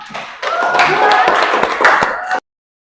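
Clapping from several people in a classroom applauding a student group, mixed with voices and background chatter, lasting about two seconds before cutting off abruptly.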